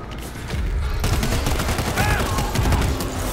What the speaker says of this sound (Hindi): grenade launcher